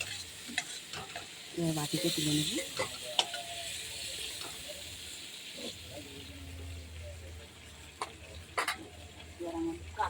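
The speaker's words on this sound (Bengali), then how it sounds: "চিংড়ি মাছটা ভাজা হয়ে গেছে" Prawns frying lightly in oil in a kadai give a steady low sizzle, broken by scraping stirs and clinks of a spatula, with someone speaking briefly over the cooking.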